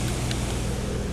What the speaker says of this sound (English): this is running the compressor with the fan on high